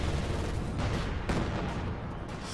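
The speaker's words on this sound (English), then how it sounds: "Explosions all over the place." Dense battle din in Company of Heroes 2, a World War II real-time strategy game, with explosions and gunfire layered into a continuous loud rumble and a few sharper blasts punching through.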